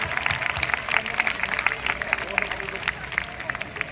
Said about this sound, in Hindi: तालियां बजा दें एक बार, बहुत शानदार तालियां।